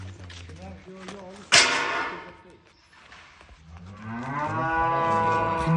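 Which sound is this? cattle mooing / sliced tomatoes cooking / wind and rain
cattle mooing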